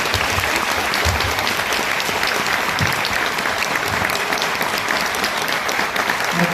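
A conference audience at the Angoulême comics festival in 2022 applauds director Yuasa with steady, even clapping from a full room, loud and continuous throughout.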